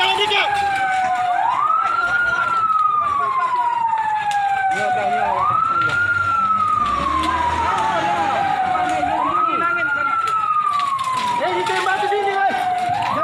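A fire truck siren wails, rising and falling in long, repeating sweeps, loud and fairly close, at a village fire, with people talking and traffic noise underneath.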